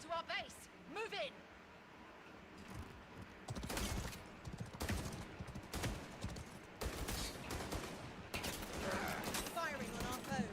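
Video game gunfire rings out in repeated sharp bursts and single shots across a battle, loud and close, while voices talk over it during a fight to defend a base.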